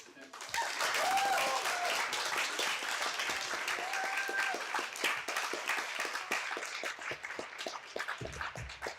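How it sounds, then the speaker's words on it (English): Audience applause at a casual astronomy talk night, a dense steady patter of many hands clapping close by for several seconds, with chatter and a few whoops mixed in before it thins toward the end. "I know we just clapped"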